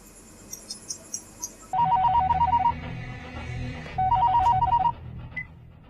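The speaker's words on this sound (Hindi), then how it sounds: "अभी सलमान भाई को फोन लगाता हूँ" A phone ringtone trills in two bursts of repeated electronic ring tones as a call is placed, fairly close and clear, with a few soft taps before and quiet background hum between rings.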